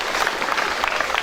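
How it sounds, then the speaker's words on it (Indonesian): Moderate clapping from an audience at a school talk show with a live musician, a brief continuous patter of hands without clear speech. "Tepuk tangan."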